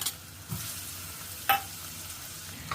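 Garlic frying in hot oil in a pan, a steady soft sizzle with a couple of brief stirring scrapes, close and fairly quiet.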